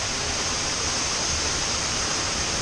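Waterfall on Koh Kood island in Thailand, a steady, loud, dense rush of falling water that stays constant throughout, heard up close with no talking.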